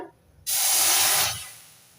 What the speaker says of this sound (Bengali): কড়াইটার ভিতর দিয়ে দিচ্ছি একটুখানি জল